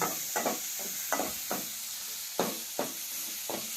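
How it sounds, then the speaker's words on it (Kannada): Tomatoes frying in oil in a home kitchen pan give a steady, close sizzle, broken by regular scraping stir strokes roughly every half second to second. No one speaks. "ನೋಡಿ ಟೊಮೆಟೊ ಕೂಡ ಫ್ರೈ ಆಯ್ತು ನೋಡಿ"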